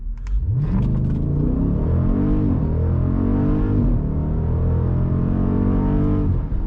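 A Jeep Grand Cherokee SRT launches at full throttle in sport mode on a 0-60 run, its engine roaring loud and close, pitch climbing steadily and dropping back at each upshift before rising again, with no talking.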